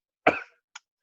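One sharp cough from a person, brief and close, followed by a faint short throat sound.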